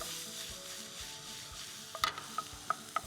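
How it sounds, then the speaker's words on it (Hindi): Garlic added to hot olive oil, a quiet steady sizzle with a few sharp clinks of a utensil in the second half. "So in the olive oil, let's add some garlic."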